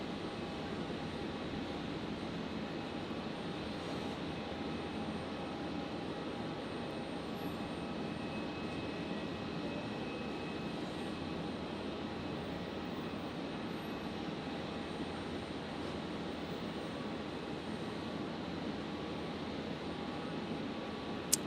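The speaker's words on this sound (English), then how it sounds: "we got the Fly Pelican Jetstream just about to touch down on 19 left" A Fly Pelican Jetstream turboprop coming in to touch down on runway 19 left at Brisbane Airport at night gives a steady, moderately faint engine drone that holds level throughout, with no voices.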